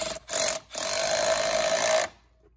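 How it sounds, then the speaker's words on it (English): A powered tool tightens a T-bolt clamp with an 11 mm socket on an extension during a 2017-2019 Duramax L5P upper coolant pipe install. It gives two short bursts, then a sustained close whirring run that stops abruptly. "I'm probably going to use an extension for that 11 millimeter for the T-bolt clamp so I can kind of get down there and tighten it up like so"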